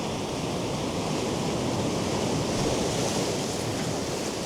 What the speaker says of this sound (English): waves coming in like that. Hitting my toes.